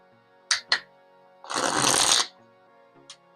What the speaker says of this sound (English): Now we're going to clarify the first tarot with my Light Seers Tarot.